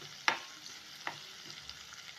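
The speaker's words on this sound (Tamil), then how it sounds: "வெங்காயம் நல்லா வதங்கணும்" Onions sauté in a pan for chicken gravy, a quiet low sizzle broken by a few sharp spoon taps against the pan.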